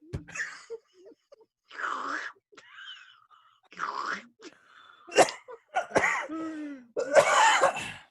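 A series of harsh, close coughs and throat-clearing bursts, irregularly spaced, with a grunt or two between them and no talking.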